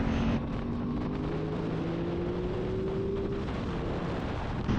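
An Aprilia Tuono 660 motorcycle rides on a motorway, its engine droning steadily under heavy wind roar, with the engine pitch rising gradually throughout.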